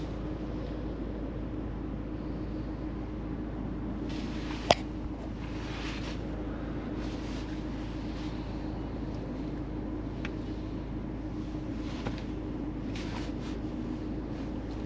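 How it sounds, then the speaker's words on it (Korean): A 2022 MINI Countryman JCW idles while stopped in sport mode, its exhaust giving a steady low rumble from inside the cabin, with a few faint clicks and a single sharp tap partway through. "정차 중에도 이게 배기음이 크네요."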